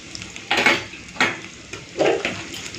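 Tomato goes into a pan of ginger-garlic-onion paste frying in oil, followed by a few scraping stirs and clinks of a spoon against the pan, each stroke bright and close, with a soft sizzle underneath.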